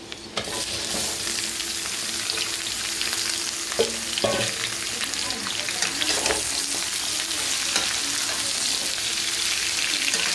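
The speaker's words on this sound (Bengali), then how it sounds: "সুন্দর করে নেড়ে নেব। ভেজে নিলাম।" Chicken legs fry with onions in a pan for a Bengali-style dish, a steady loud sizzle running throughout with occasional stirring clatters and scrapes near the start and middle.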